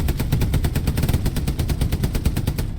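A machine gun rattles in rapid, evenly spaced bursts during a Hell Let Loose match, each shot sharp and loud, continuing without pause and with no talk.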